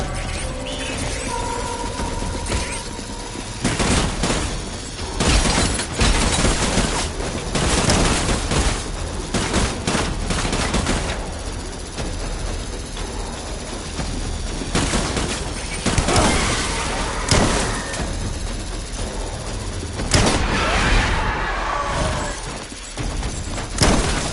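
Sustained gunfire after an order to open fire: loud, dense bursts of shots and rapid volleys, some heavier thuds mixed in, continuing for over twenty seconds with no speech.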